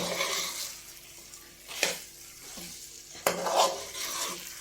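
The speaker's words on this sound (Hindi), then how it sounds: "तो अब हम इसको अच्छे से मिक्स कर लेते हैं" Makhandi halwa being mixed in a pan, with soft scraping stir strokes and two sharper knocks of the spoon against the metal over a low sizzle, close and fairly quiet, with no talking.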